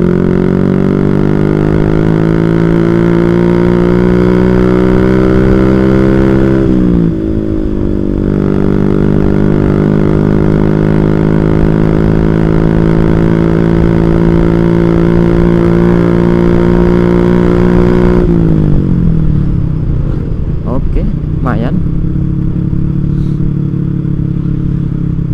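Motorcycle with a faulty carburetor, its engine droning loud and close in long sustained runs. The pitch dips and sags around seven seconds, then falls away and stumbles unevenly near the end, with no speech.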